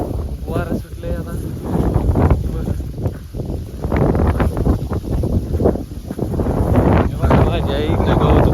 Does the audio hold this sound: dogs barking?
no